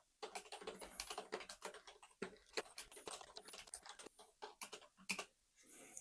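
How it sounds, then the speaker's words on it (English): Typing on a gaming keyboard with soft, semi-clicky keys, a rapid close-up run of uneven keystrokes with brief pauses, quiet overall and no speech. "And so here's some little typing I'm going to try."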